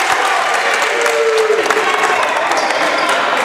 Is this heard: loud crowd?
yes